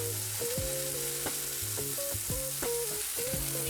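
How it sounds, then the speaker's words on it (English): Chicken seasoned with salt and pepper sears in a hot pan with a steady, even sizzle. Music with a melodic line plays alongside it the whole time. "when I put it into the pan, it's gonna sear with the salt and pepper actually on there"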